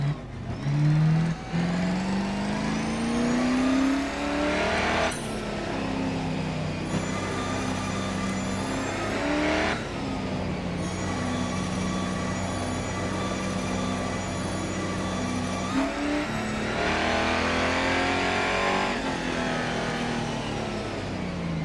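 V8 Holden race car engine in the Grid Autosport video game, revving continuously with pitch climbing and dropping through gear changes, loud and steady for over twenty seconds with no talk.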